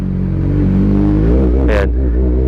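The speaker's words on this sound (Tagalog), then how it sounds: "Maganda rin talaga tunog ng Suzuki, lalo na inline 4." A Suzuki GSX-S750 inline-four motorcycle engine revs close and loud, its pitch rising and then dipping, with a brief sharp blip near the end and no talking.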